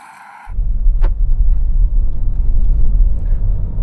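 A Dacia Duster hybrid SUV launches hard from a standstill, its low engine and road rumble rising suddenly and holding steady and loud under acceleration.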